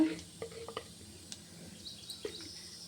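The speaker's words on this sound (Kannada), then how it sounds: "ಎಣ್ಣೆ ಬಿಸಿಯಾಗಿದೆ. ಸ್ವಲ್ಪ ಇದಕ್ಕೆ ಜೀರಿಗೆ, ಅರಿಶಿನ ಪುಡಿ ಸ್ವಲ್ಪ ಹಾಕೋಣ." Cumin and turmeric powder sizzle in hot oil with a soft, steady crackle and a few light stirring clicks over a short stretch.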